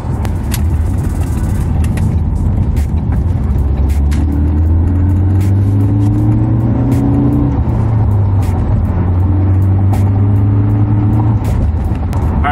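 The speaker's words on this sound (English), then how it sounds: "we're gonna get on the highway and experience the Focus ST" A Ford Focus ST drives on a highway, its engine and road roar loud and steady from inside the cabin, the engine note rising and falling through gear changes, with no talking.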